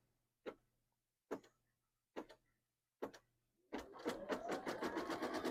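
An embroidery machine starts stitching a spider coaster design. Four separate, evenly spaced thumps come first, then a steady, fast, rhythmic stitching chatter runs on continuously, close and moderately loud.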